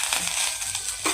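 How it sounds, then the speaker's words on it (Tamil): Curry leaves dropped into hot oil set off a loud, continuous spitting sizzle that fills the short moment close up, with no one talking. "கருவேப்பிலை போட்டுக்கலாம்."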